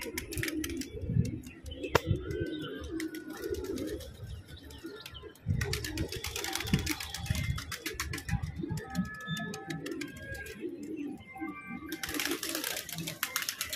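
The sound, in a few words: pigeons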